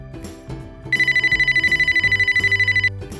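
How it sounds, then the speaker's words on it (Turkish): A telephone bell rings in a fast, rapid trill for about two seconds over soft background music. "Telefon çalıyor."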